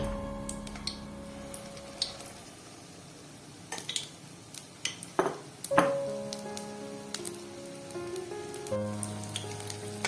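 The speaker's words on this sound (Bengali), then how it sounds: "এই যে ভাজা হচ্ছে" Jackfruit chops fry in oil that sizzles and crackles steadily, with scattered sharp pops and a few clinks of a spoon against the pan.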